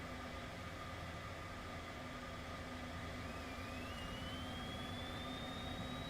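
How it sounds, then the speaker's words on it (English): Racing car engine in the Slipstream Racing video game at the Belgium Grand Prix, a steady synthetic drone with a faint rising whine, continuous and alone throughout. "That's not how the engine sounds actually."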